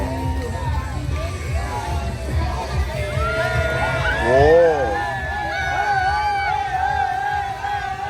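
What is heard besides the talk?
crowd cheering at basket boat spinning show in Hoi An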